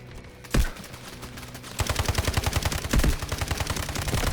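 Automatic gunfire in the Delta Force shooter game, a heavy boom followed by sustained rapid bursts of close, loud shots over a constant battle din with music-like background.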